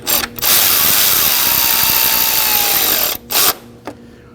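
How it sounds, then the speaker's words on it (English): A power driver runs down four bolts on an oil pressure switch of a 2011-2016 Kia Optima. One long, loud burst of spinning whir is followed by a short burst and a quick blip, each ending in a ratcheting stop, with no talk. "Now we're gonna go ahead and get those 4 bolts snug up."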